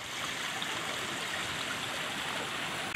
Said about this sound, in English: Got a nice water feature.